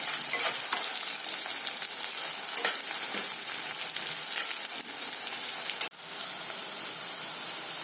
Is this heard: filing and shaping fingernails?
no